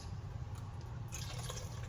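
Chicken broth pours and trickles into a pot of vegetables, a soft continuous splashing that grows a little brighter partway through, quiet and close.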